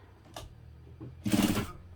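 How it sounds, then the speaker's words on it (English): A sewing machine runs briefly, stitching over the seam where a zipper was attached on a hobo bag, with a short click followed by a louder whirring burst nearby, no talking. "I'm just going to sew directly over the line of stitching that I used to attach the zipper."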